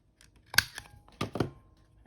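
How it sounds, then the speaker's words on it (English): A small corner punch rounds off the top tab of a paper envelope folder, giving two or three crisp, close snapping clicks with brief papery rustle between them. "a corner punch if you like to punch the top over the top tab and kind of round it out"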